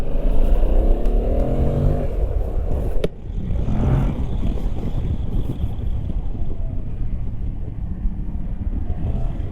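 A Yamaha Tracer 7 motorcycle engine drones while riding, loud and close, climbing through revs then settling after a brief dip, under a constant rush of wind with no talking.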